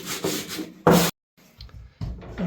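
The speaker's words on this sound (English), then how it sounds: "working hard here with a little orbital sander that I got" A small Makita-style orbital sander works over a pine floor in a Japanese house, making short rough scrubbing bursts broken by a brief silent gap, close and fairly loud.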